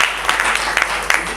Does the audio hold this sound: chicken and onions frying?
no